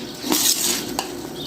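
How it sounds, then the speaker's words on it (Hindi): Rice for chicken biryani is poured into a pot of nearly boiling water, producing a brief rattling, scraping rush against the metal with faint bubbling and clinks from the pot. "तो अभी हम इसमें डाल देते हैं चावल। पानी हमारा उबल चुका है तकरीबन।"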